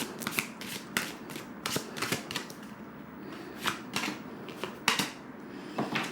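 Tarot cards are shuffled by hand in close, crisp bursts of riffling and snapping, irregular flurries of papery clicks separated by short pauses, with no voices.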